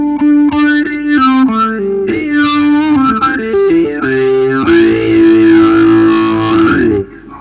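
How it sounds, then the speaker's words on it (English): An electric guitar runs through an Electro-Harmonix 8 Step Program step sequencer with its built-in distortion on, giving loud, sustained notes that pulse in stepped rhythmic patterns and end abruptly. "it's also got a built-in distortion that I can switch off"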